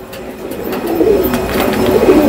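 Pigeons, adult high-flying birds, coo close by in soft, rolling low calls that repeat and grow slightly louder, with faint rustling in the background.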